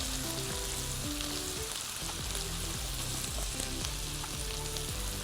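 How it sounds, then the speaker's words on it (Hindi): Spice masala being stirred and fried in a pan for bhindi masala, a steady dense sizzle running without pause, with low tonal scraping strokes of stirring repeating underneath throughout. "अब इस मसाले को हमने अच्छे से मिक्सअप करना है।"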